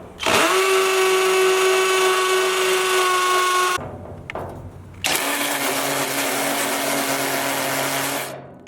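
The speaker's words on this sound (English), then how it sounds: "And I'm going to use a masonry bit." A power drill fitted with a masonry bit bores holes for Tapcon screws in two loud, sustained whining bursts of several seconds each, close up, with a brief pause between them.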